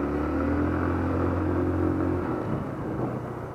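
A Rusi SC125 motorcycle engine runs during a test ride, giving a steady, close rumbling drone that holds even and then eases slightly toward the end, with no voices.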